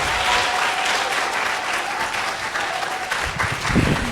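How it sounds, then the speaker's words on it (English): A school audience gives a round of applause for a guest, steady dense clapping that fills the room at an even level for about four seconds. "let's give a round of applause to Mr. Brown for coming out today."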